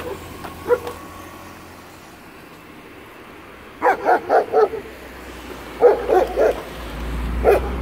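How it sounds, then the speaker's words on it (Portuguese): Dog barking beside a main street in Valinhos, São Paulo, in short bursts of several barks separated by quiet gaps, with a faint growl beneath and no talk. "É esse senhor, senhora que está rosnando pra mim."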